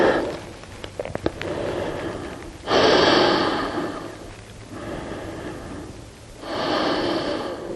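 Slow yoga breathing, heavy audible inhales and exhales in long swells with pauses between them, close and clear with no talking.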